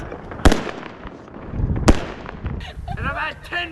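Fireworks going off outdoors and starting a wildfire, with two sharp loud bangs followed by crackling and whistling bursts, while people shout and talk excitedly nearby.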